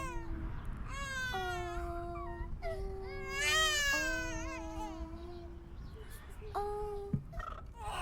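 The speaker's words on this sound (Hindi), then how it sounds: "बच्चा भूखा हो गया और जोर जोर से रोने लगा" A hungry baby wails loudly in several long, rising and falling cries separated by short breaths, alone with no talking over a soft background hiss.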